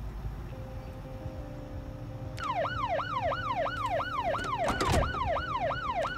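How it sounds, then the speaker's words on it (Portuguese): A vehicle siren switched on in Project Zomboid starts up after a low hum and settles into a rapid repeating wail, loud and close, with a sharp burst partway through. "Vamos ligar a sirene e chamar o máximo de zumbi possível aqui?"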